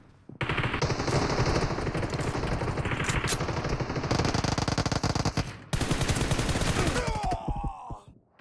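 Automatic rifle fire in a BGMI team deathmatch battle, sustained loud bursts of rapid shots running almost continuously, with a brief gap before another heavy burst and the fire tapering off at the end.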